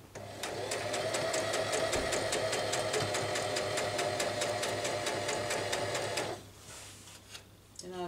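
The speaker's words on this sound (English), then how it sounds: "Now I'll start stitching." A sewing machine stitches over a first line of stitching on a chiffon round neckline, a fast, even mechanical chatter running steadily for about six seconds before stopping, leaving a faint hum and small clicks.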